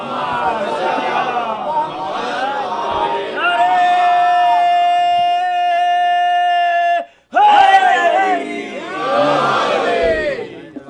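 A gathered congregation at a religious majlis chants salawat in unison, loud massed voices in call-like surges with a sustained tonal chant in the middle, a sharp break, then renewed collective chanting.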